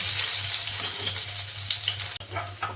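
Chopped garlic sizzles in hot oil with cumin, dried red chilli, cinnamon, peppercorns and cloves, a loud, even crackle close by, with a brief clatter near the end and no speech.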